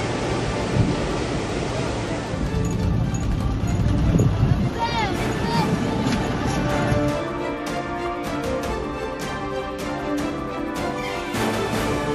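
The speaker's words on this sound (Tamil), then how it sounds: "இரு கரைகளையும் தொட்டபடி ஆர்ப்பரித்து செல்லும் தண்ணீர்" Palar river in flood after continuous heavy rain, water surging bank to bank in a constant broad roar, with a narrator's voice speaking over the rush.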